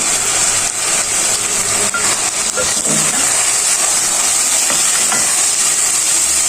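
Keema mince fries with a large chopped tomato and three to four green chillies for aloo keema, a loud continuous close sizzle and hiss with faint stirring scrapes and no talk.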